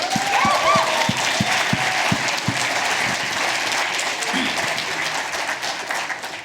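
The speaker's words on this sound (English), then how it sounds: "we all want to give you a round of applause for what you've accomplished and for being here in this successful event" An audience applauds at a closing awards ceremony at a summit, dense sustained clapping from a large crowd, with a few louder nearby claps and faint murmuring underneath.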